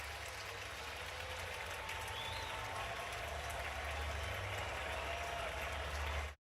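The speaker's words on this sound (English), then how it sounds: "Gets a nice hand from the crowd as he walks off the mound as a big leaguer for the first time." Baseball crowd at an Angels–Astros MLB game applauds a pitcher walking off the mound, a steady, broad wash of clapping heard from a distance under a low stadium rumble.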